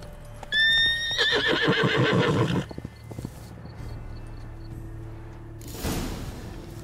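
Roach, Geralt's horse in The Witcher 3: Blood and Wine, gives a loud, close whinny with a wavering high pitch, followed by clip-clopping hooves and a quieter, rumbling ambient stretch with a second faint stir near the end.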